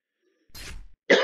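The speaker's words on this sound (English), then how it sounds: "Pardon me, why am I coughing?" Two separate coughs from a man, a short muffled one followed after a brief pause by a sharper, louder one, close and alone against silence.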